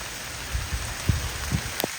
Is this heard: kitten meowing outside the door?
no